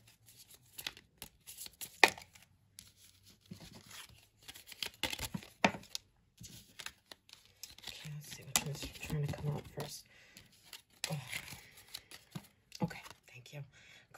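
Tarot cards being shuffled during a horoscope reading, a soft papery riffling and rustling in irregular bursts, close and quiet, alternating with spoken commentary.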